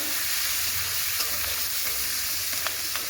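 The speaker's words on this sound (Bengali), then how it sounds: "চিংড়ি ভাজার তেলে ফোড়নে দিচ্ছি কালো জিরে, পেঁয়াজ আর 3টে কাঁচা লঙ্কা" Black cumin, onion and three green chilies fry in oil left over from frying prawns, a loud, close, continuous sizzle broken by a few light clicks and scrapes of stirring.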